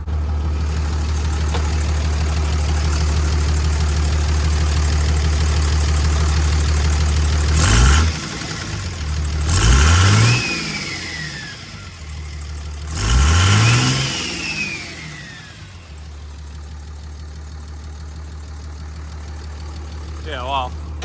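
6.0 Powerstroke diesel pickup engine with a failed oil cooler, idling with a low steady rumble and then revved three times in loud rising bursts that fall back to idle, with people talking nearby.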